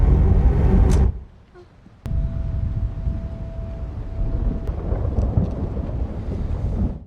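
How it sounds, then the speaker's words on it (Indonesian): Heavy rain pours over a city in a dense, loud roar, broken by a sudden drop in level before the downpour returns, with rumbling low noise suggesting thunder. "meski hujan lebat mengguyur kota"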